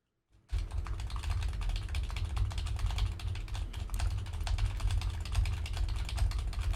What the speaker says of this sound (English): Dooba-dubbity, I'm typing on my keyboard.